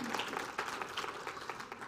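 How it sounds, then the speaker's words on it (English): A church congregation claps during a sermon, a short burst of dense applause from many people in a large room, fairly even and steady throughout with no speech on top. "yeah, that's awesome. Yeah, you can clap for that."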